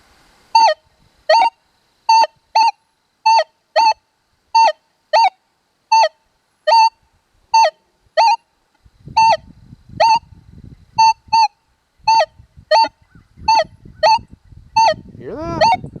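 Minelab Manticore metal detector sweeping over a horseshoe in ferrous pitch mode gives a loud, steady series of short identical electronic beeps, roughly two per second, with soft rustling and handling noise in the later part.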